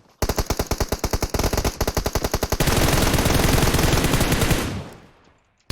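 Rapid automatic gunfire in a battle royale shooter, loud and close, with bursts of evenly spaced shots giving way to a dense sustained volley before cutting off.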